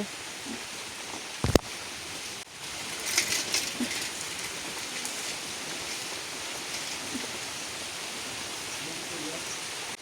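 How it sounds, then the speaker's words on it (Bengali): Heavy rain falls outdoors in a steady, dense hiss, with a loud thump near the start and some murmuring voices partly mixed in. "এখন জোরে বৃষ্টি নামতেছে"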